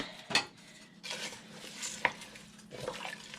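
Rice is stirred into a pot of vegan soup: close metal utensil scrapes and clinks against the pot, with soft sloshing and a faint simmer between strokes.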